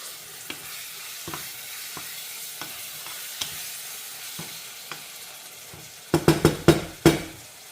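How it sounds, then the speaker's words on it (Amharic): Onions for a macaroni dish frying in a pan, with a low steady sizzle, a few light stirring scrapes, and a burst of louder clattering utensil knocks near the end. "ከሽንኩርቱ ጋር ላብስለው ብዬ ነው።"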